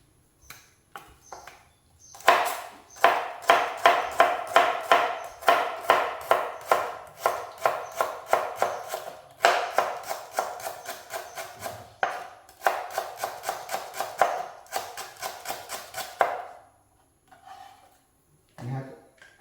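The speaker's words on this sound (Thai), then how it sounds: "เดี๋ยวจะหั่นพริกจะหั่นตะไคร้จะหั่นหอมขาวกระเทียม" Knife chopping chili, lemongrass, shallots and garlic for a Thai shrimp salad: brisk, steady cuts on a board close up, running in long rhythmic bursts with brief pauses between batches.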